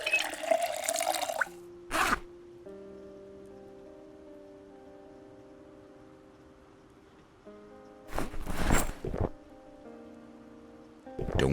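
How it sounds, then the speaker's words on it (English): Buckets of tainted water are emptied out in Project Zomboid, with two short bursts of splashing, pouring water separated by a quiet stretch of low humming game ambience. "I'm emptying out the buckets of tainted water so I could fill it up"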